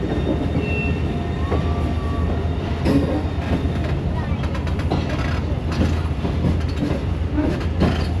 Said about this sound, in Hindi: Tezgam 7 up Raiwind junction railway station पे अप्रोच कर रही है।